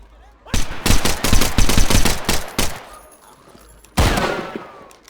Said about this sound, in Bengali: শিল্ডে গুলি করে কে?